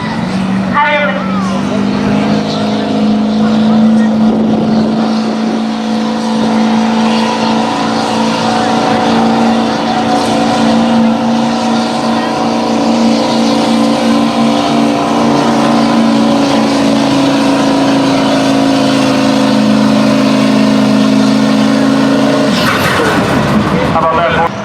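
A Duramax diesel pickup truck pulls at a truck pull event, its engine a loud, sustained droning roar throughout, with an announcer talking over it.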